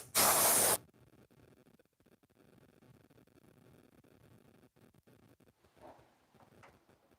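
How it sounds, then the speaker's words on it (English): An air compressor nozzle blasts dust off a cherry wood piece in one loud burst of under a second, then low shop noise follows. "Use the air compressor and blow this off."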